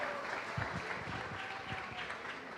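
An audience claps at a student panel event after the founder of Brandface is called up, a moderate, steady patter of hands lasting a few seconds without voices.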